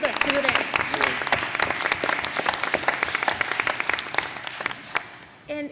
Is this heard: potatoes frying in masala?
no